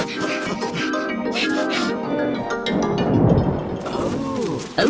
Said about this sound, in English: Oh dear, it has started to rain